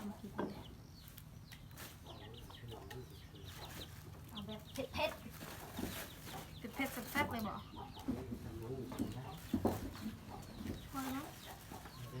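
Chickens cluck at a rural village in Laos, short bursts repeating close by over a steady low hum, with people talking now and then.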